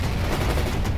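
Dense, continuous gunfire and explosions from a World in Conflict battle scene during a Russian invasion of the United States, loud and sustained, with machine-gun bursts layered over booming artillery.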